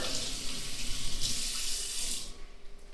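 Hot water runs steadily from a sink tap in a home, a continuous hiss and splash that eases off near the end.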